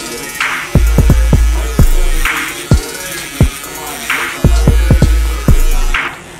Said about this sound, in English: Using my Andis shavers, I'm gonna bald out the bottom of it just a little bit more.